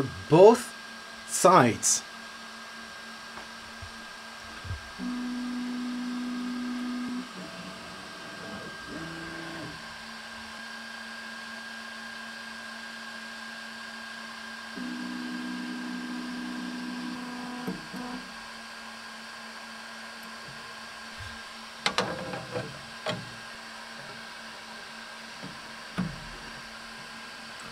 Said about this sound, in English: Check how the machine is calibrating the X and the Y offset for